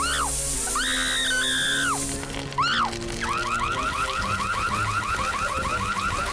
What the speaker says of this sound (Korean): 화재 경보기가 좋군.